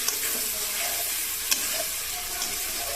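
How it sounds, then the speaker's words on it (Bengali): Shrimp stir-fry in a pan with malabar spinach curry, a steady close sizzle broken by a couple of sharp spatula scrapes. "চিংড়ি মাছ দিয়ে ভালোভাবে কষাতে হবে।"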